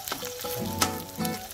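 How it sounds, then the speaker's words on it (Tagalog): Shrimp paste (alamang) sautés in a pan for spicy fish binagoongan, a close, loud sizzle with bursts of stirring and spattering over a short stretch. "para igigisa muna natin yung alamang natin para mas lalo siyang lumabas"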